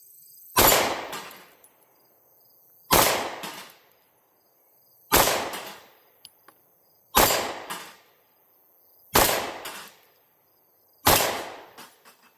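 Six loud, sharp pistol shots fired at 17 yards through an Osight K red dot sight, spaced about two seconds apart, each cracking close and trailing off in a short ringing decay.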